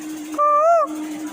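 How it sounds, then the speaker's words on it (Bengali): A bird perched on a distant flagpole gives a single short, clear whistled call lasting under half a second, standing out over a steady low background hum. "পাখি আমার থেকে কত দূরে বসে আছে, সাউন্ড এখানেও আসতেছে"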